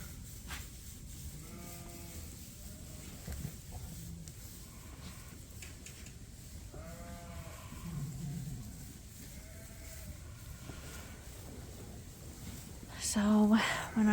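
Sheep in a flock of ewes close to lambing bleat several times at scattered intervals, moderately near, with quiet human voices and some rustling and a clatter near the end.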